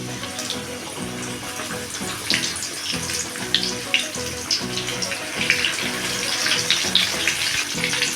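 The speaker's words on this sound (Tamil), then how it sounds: "எண்ணெய் நல்லா சூடாகிடுச்சு ரெண்டு ரெண்டு சிக்கனாக போட்டு பொறிச்சு எடுத்துக்கலாம்" Steady crackling and sizzling of chicken frying in hot oil, a dense hiss with low background tones and no talking.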